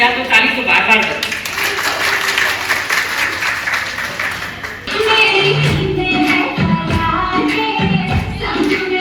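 Audience applause after a dance performance at a Women's Day event, a crowd clapping loudly through the first half, with someone speaking over it and scattered clapping continuing beneath her voice.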